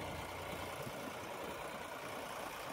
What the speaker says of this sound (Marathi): John Deere tractor